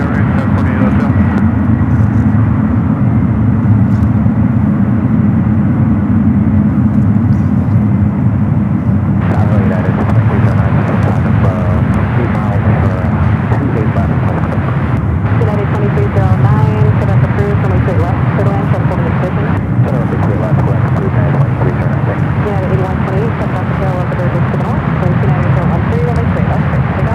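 A Boeing 747-8 at San Francisco airport makes a loud, sustained jet rumble that swells and grows harsher partway through, with people talking over it.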